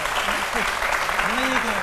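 Steady applause from a crowd, a dense patter of clapping with a voice calling out faintly over it.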